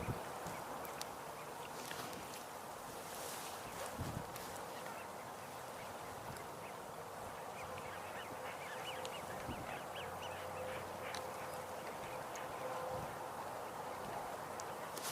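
Mallard ducks sit out on open water, their faint quacks scattered through a steady outdoor background wash with distant, low calls and no talking.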